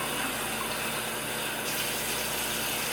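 Warm water runs steadily from a tap into a container, a loud, even, continuous rush with no voices.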